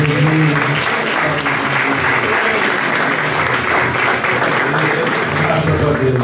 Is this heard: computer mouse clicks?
no